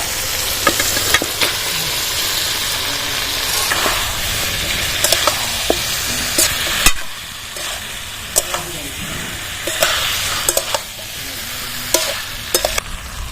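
Peeled taro pieces tipped into a pan of spice masala with slit green chillies, frying with a steady loud sizzle while a spatula scrapes and stirs in frequent knocks, close, with no talk.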